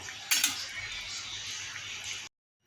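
Fried lentil dumplings and spices being stirred in a pan, giving a steady scraping, sizzling hiss with a couple of sharper utensil knocks near the start, ending abruptly into silence.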